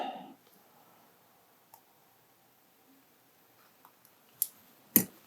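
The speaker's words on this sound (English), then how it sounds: "We're going to take the curved scissors and round the back part." Curved scissors snip through sheet foam while shaping a cricket fly, two crisp, close, quiet cuts near the end after a mostly silent stretch with faint ticks.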